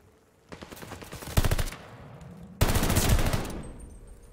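Automatic gunfire in a competitive esports match, two loud rapid bursts of shots with a short gap between them, close and dominant.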